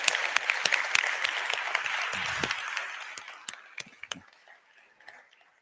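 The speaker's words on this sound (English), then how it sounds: "I think you deserve a huge round of applause," An audience at a ministerial honours lunch applauds, producing moderately loud, continuous clapping with distinct sharp claps that gradually thin out and fade toward the end.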